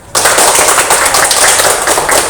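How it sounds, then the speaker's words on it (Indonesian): A burst of group clapping, dense and close, sustained for a couple of seconds after a sudden start. "Tepuk tangan."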